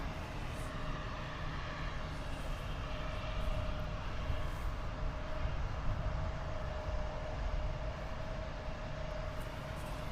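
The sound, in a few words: Air Canada Rouge Airbus A320 at Toronto airport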